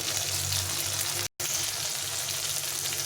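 Spices such as turmeric and cumin powder sizzle steadily in oil in a pan for a winter pea lentil dish with vegetables, a continuous close frying hiss with a very brief break.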